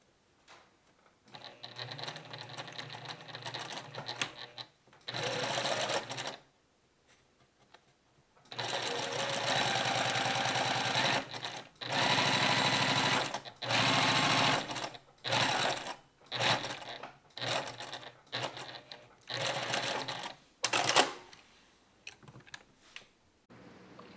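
Sewing machine stitching a dart in dressmaking fabric without a marked line, running in several steady bursts of rapid mechanical chatter separated by short pauses and stops, close and fairly loud with no talk.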